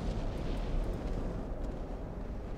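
A transport ship blows up in the naval warfare game Ultimate Admiral: Dreadnoughts, a deep, rumbling explosion roar that sustains loudly for a couple of seconds with no talking.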